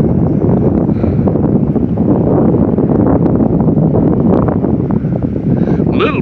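Storm wind blowing outdoors as dark skies roll into Bartlesville, Oklahoma, a steady loud roar of gusts buffeting the microphone throughout, with no letup.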